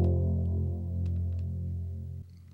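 A sine bass swell synth patch from the VPS Avenger wavetable plays a deep, steady sustained low tone with layered harmonics, slowly fading before dropping off near the end, alone without talk.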